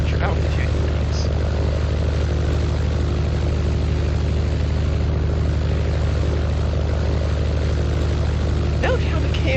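A propeller airplane engine in a Minecraft flight simulator game drones steadily and evenly, a continuous, fairly loud hum that stays level from start to finish with no pauses.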